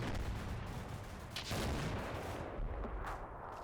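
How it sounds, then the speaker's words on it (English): Artillery barrage in the Combat Mission Shock Force 2 war game, with a dense, continuous rumble of booming blasts and crackling gunfire and a heavier burst around the midpoint, loud and sustained throughout. "Now the artillery can come in and it'll be fine."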